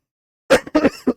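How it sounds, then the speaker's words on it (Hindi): A man during a Hindi-language lecture coughs close to the mic in a short burst of three harsh coughs, the first two quickly paired, with silence before them. "खांसी तेज आ रही है।"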